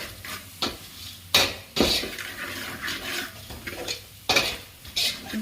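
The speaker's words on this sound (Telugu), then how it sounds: "పసుపు వేసి బాగా ఫ్రై చేయాలి. ఆయిల్లో ఫ్రై అయితే మసాలా బాగుంటుంది టేస్ట్గా." Turmeric masala fries in oil in a pan while a spoon stirs it, giving repeated scraping strokes and clinks against the metal over a soft continuous sizzle, close and steady.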